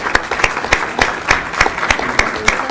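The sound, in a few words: audience applause at a school board meeting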